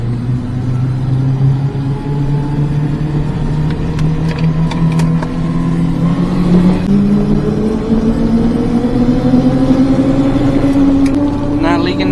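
Turbocharged micro van engine droning loudly and rising steadily in pitch as the turbo boost builds, a continuous close-up whir and rumble with voices speaking over it.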